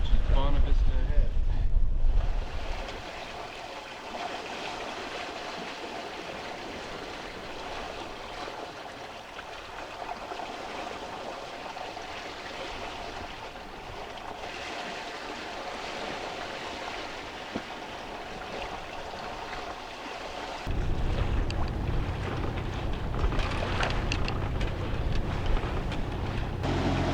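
Sailboat under way at sea off Newfoundland heading toward Bonavista Head, with steady wind buffeting and water rushing along the hull, a louder gust at the start and end, and a voice speaking over it.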